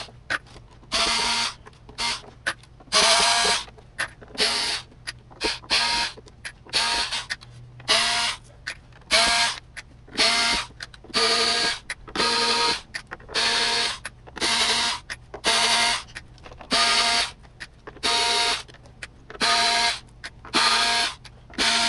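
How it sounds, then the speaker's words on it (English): Screws being backed out of a Technics 1200/1210 turntable: a long, regular series of short mechanical whirring bursts with brief gaps between them, heard close up. "So that's all the screws removed."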